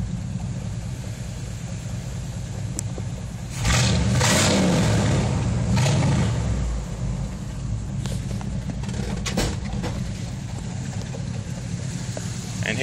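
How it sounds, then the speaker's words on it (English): A 1985 Chevy C10 truck engine idles with a deep, loping exhaust rumble, then gets a short, modest rev that swells loudly for a couple of seconds before settling back to a steady lumpy idle. "here's what it sounds like revved up just a little bit"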